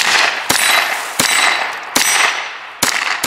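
Four sharp .22 rifle shots at jumping targets, each a crisp, loud crack with a brief ringing tail, spaced unevenly about a second apart over steady outdoor background noise.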